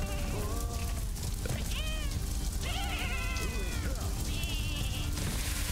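Sheep bleating in the video game Lumberhill, several wavering bleats over loud, dense game sound and music, with a player talking.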